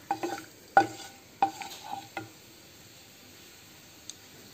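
Whole spices stirred and dry-roasted in a pan for dum aloo, with a few scraping stirs and light crackles in the first couple of seconds, then near silence and one faint tick.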